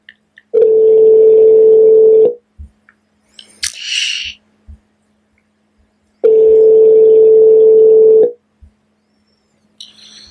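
A telephone dial tone drones steadily for about two seconds, followed by a few clicks and a brief burst of higher tones, then the dial tone returns for another two seconds before a faint chirp; no voices.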